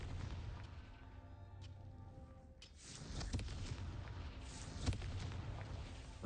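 A magical blasting spell goes off with a couple of sharp booming bursts over a low rumbling bed, moderately loud and close, with no talking.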